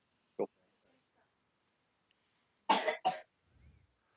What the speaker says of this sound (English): Actually, that's why they're coughing so much.